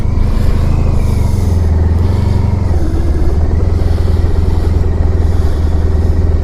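A 1994 Honda ST1100 motorcycle on the road, its engine droning loud and close with steady low rumble and shifting pitch as it accelerates, wind noise layered over the continuous motor sound.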